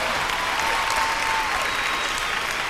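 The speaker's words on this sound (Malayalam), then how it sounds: "നല്ലൊരു കൈയടി കൊടുക്കാം" An audience applauds a hand-drawn portrait sketch presented to a singer. The clapping is full and even, a continuous close roar throughout with no voices.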